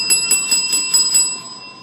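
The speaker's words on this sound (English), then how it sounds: "Got a bell." A small bell is rung at a post office customer service counter, giving a few bright metallic dings that ring out near and clear, then fade over two seconds.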